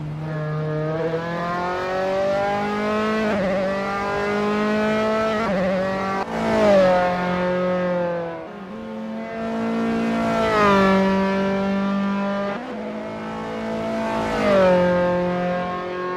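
Dallara F312 open-wheel race car in Assetto Corsa at Rattlesnake Point, its engine droning at high revs and rising through repeated upshifts, each gear climbing in pitch before a quick drop, loud and continuous with no talk.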